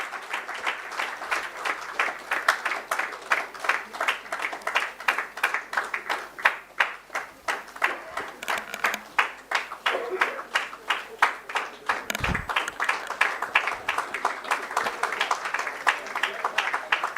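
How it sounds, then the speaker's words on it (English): An audience at an architecture awards ceremony claps steadily, a dense run of individual hand claps forming continuous applause with a brief low thump partway through. "A round of applause, please."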